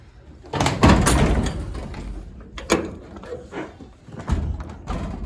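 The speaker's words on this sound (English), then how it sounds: "I can't even shut the door." A car door is pushed and knocked repeatedly but fails to latch, the door having sagged so it no longer lines up; close, loud thuds and rattles with brief pauses.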